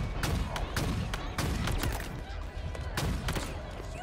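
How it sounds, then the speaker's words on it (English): Rapid-fire sniper rifle shots in the Halo Infinite video game ring out as sharp, loud cracks in quick groups of two and three over a constant battle din. "The rapid-fire sniper rifle."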